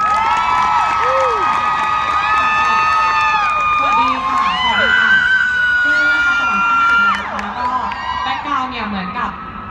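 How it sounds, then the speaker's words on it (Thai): An audience cheers for Ben with loud whoops, high shouts and overlapping voices that rise and fall over a crowd din, with some clapping mixed in. "ขอเสียงปรบมือให้คุณเบนพรสวรรค์ด้วยนะคะ"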